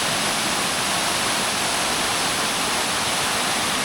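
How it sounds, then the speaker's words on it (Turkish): Waterfall pouring over Çal Cave near Düzköy, Trabzon, a loud, steady broadband rush of falling water with no voices. "Şimdi Çal Mağarası ve üstünden akan şelale."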